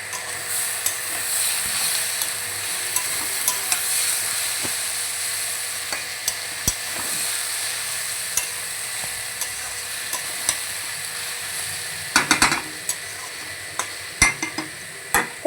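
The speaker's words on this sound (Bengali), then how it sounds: "এবারে আমি কাঁচা টমেটোটা দিয়ে দেবো। দিয়ে আমি 10 মিনিট মতো এটা অল্প আঁচে করে নেব ভাজাটা।" Raw tomato fries slowly over low heat, a steady moderate sizzle under frequent sharp clicks of a utensil against the pan, with a burst of stirring and clatter near the end and no voices.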